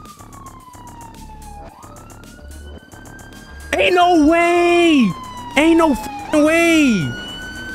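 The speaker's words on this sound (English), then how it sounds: "I hear more sirens." A wailing police siren in GTA 5 roleplay sweeps up and down loudly in repeated bursts, with excited voices talking over it and game noise underneath.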